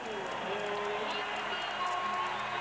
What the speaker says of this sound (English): a standing ovation from this crowd here in Orlando for the home team